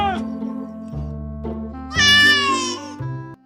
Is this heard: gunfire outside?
no